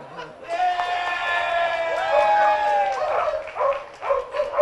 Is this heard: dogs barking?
yes